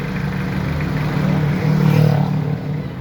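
A well-kept car engine idling steadily close by, a smooth low hum with a slight rise and fall in revs partway through, no talking over it.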